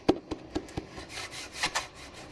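Soft knocks and taps on the hollow wooden body of a cigar box guitar, followed by gentle rubbing and brushing strokes, close and quiet.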